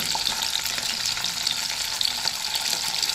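Masala spices frying in a kadai with a little oil for the tadka give off a steady, dense sizzle that stays close and even throughout, with faint stirring and no talk.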